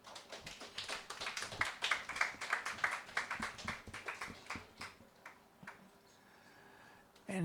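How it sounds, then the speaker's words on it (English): A small audience at a poetry reading gives sparse, distinct claps that keep up an irregular patter for several seconds before thinning out to near quiet. "give her a bit more applause as she gets up to the stage."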